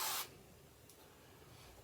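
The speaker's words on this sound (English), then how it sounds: "I'm going to take it and spray it in the middle of the kitchen so that I don't get it all messy" Cooking spray hisses into a cake pan in one short, sharp burst lasting a quarter second, followed by quiet room tone.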